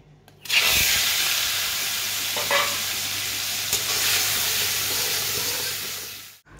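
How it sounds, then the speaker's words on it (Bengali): Steady, loud sizzling of shrimp frying in a pan, a continuous crackling hiss with a few brief clinks partway through, no talking. "এটা চিংড়ি মাছ ভাজছি, অবশ্যই দেখতেই পাচ্ছ।"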